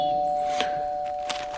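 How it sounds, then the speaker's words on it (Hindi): An indoor doorbell rings with a sustained, steady electronic tone over a quiet room, with a couple of soft knocks or thumps underneath. "तभी दरवाजे की डोरबेल बजी।"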